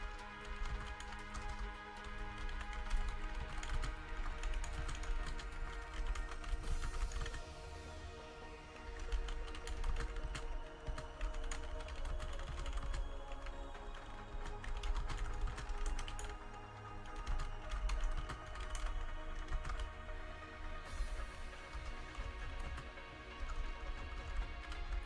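Keys on a computer keyboard are tapped in an uneven, continuous patter, faint and close, over a low background hum for about twenty-five seconds.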